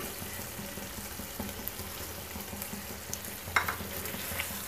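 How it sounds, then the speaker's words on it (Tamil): Chettinad pepper chicken frying and roasting in an iron kadai, giving a steady close sizzle with soft stirring scrapes and one sharper clink near the end. No voices. "சிக்கன் நல்லா ரோஸ்ட் ஆகிட்டு இருக்குது"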